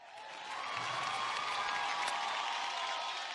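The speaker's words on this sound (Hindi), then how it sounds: "जोरदार तालियां फॉर स्टार गिल्ड अवार्ड।" A large audience applauds and cheers at the Star Guild Awards 2016 ceremony, a broad wash of clapping that swells in and holds steady at a moderate distance.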